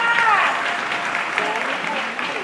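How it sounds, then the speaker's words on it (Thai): An audience claps after a singing contest performance, with a dense burst of applause that stays steady for a couple of seconds and fades slightly, while voices and cheering come through underneath. "โอเคขอเสียงประมือให้กับผู้ผาเลยค่ะ"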